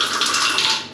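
A shower head runs with weak pressure, giving a steady, close hiss of spraying water throughout.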